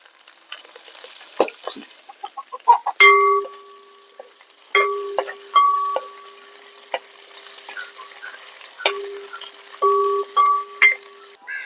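Curry leaves dropped into hot oil for a papaya and carrot pickle crackle and spit in short, sharp bursts separated by quieter pauses, close and fairly loud.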